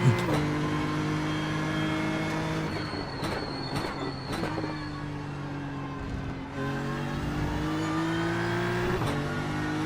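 A race car engine in a sim racing game, revving loud and close through rising gear pulls with abrupt shift breaks and brief drops, the high-pitched whine dominating throughout with no talk.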